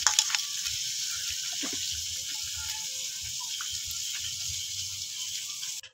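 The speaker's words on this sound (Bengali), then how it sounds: "ভালো করে পরিষ্কার করে ধুয়ে নেবো পাতাগুলো।" Kulekhara leaves being washed clean under running water: a steady, close rush of water that runs without a break for about six seconds, with small splashes and no talking.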